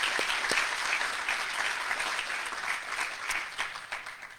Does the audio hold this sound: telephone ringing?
no